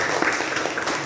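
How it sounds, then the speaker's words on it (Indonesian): Classroom students clapping for a classmate, a short burst of scattered hand claps, moderately loud and close, with no speech over it. "Kita berikan tepuk tangan untuk Dani ya."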